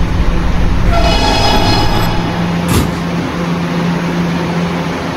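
Roblox subway train, an R211T K train, running with a continuous loud rolling rumble and wheel whine, brief tonal squeals early on and a sharp short burst near the middle, no talk.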